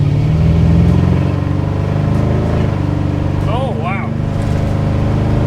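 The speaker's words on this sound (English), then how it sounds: "Oh yeah, the exhaust is quite loud." Loud exhaust of a 1970 Buick Riviera with a big-block engine, a steady deep rumble while driving at about 35 mph, with people talking over it briefly.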